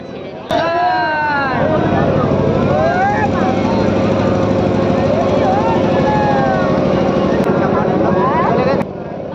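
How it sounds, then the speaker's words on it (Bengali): A riverboat engine drones steadily on a rainy crossing to the Mayapur ghat, with a loud constant rumble under voices and a crowd murmuring on board. "আমরা এখন নৌকা করে মায়াপুর ঘাটে যাচ্ছি।"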